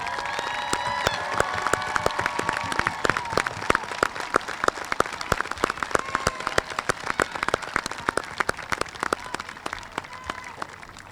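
At a Rosewood High graduation ceremony, a large crowd gives sustained applause for graduates' parents and grandparents, dense crisp clapping with scattered loud claps that slowly thins toward the end, along with faint cheering and a voice early on.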